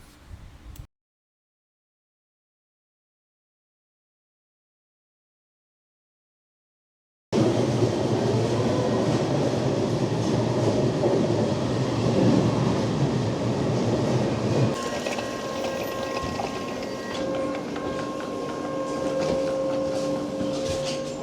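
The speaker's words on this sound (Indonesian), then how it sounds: "Nah, ini dia suasana pemandangan kereta yang ada di Turki." After a short silence, a steady rumbling train ride in Turkey takes over: loud continuous rolling and hum with rattles, the tone shifting partway through, no talking.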